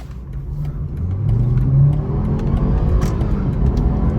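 A BMW G20 320i accelerates hard, its engine note climbing in pitch and swelling in loudness, heard from inside the car with steady road roar underneath.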